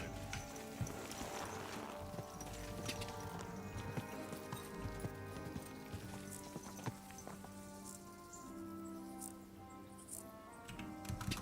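Horse hooves clip-clop steadily in Kingdom Come: Deliverance 2, a continuous trotting rhythm with occasional mechanical clinks, close and moderately loud under a dense game soundscape.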